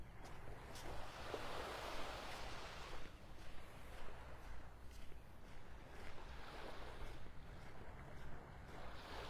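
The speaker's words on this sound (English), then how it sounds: "the whisper of the little waves gently lapping on the shore" Small ocean waves wash gently onto a Gulf beach shore at Vanderbilt Beach, Naples, Florida, a steady soft surf hiss with light wind rumble, no voices.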